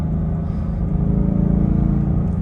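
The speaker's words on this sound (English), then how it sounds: "It's in Sport Plus, so the throttle sounds a bit more aggressive." A 2015 Ford Mustang GT with a Ford Performance sport exhaust and X-pipe pulls in third gear around 2,500 rpm in Sport Plus mode, giving a steady, deep engine drone with a slight swell under light throttle.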